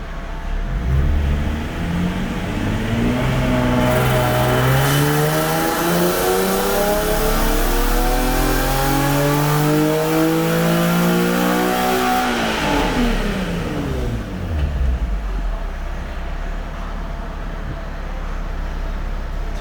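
A Nissan 370Z fitted with high flow cats revs on a dyno pull, its engine note climbing loud and smooth through the gears before dropping back to idle.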